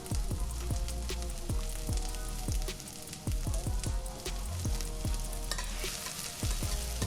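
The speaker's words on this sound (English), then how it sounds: "we're gonna get our onions and garlic on into the pot and get those started." Onions and garlic fry in olive oil in a pot, a steady dense sizzle with crackling pops and occasional stirring clinks, close and continuous.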